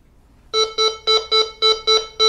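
A GMT 9000 Goldmaster 24K gold detector gives its gold-target tone, seven loud, evenly spaced electronic beeps in quick succession after a short quiet lead-in.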